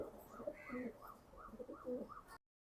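Racing pigeons from a club loft coo in a steady run of soft, rounded, repeated calls, fairly close and alone, cutting off abruptly near the end.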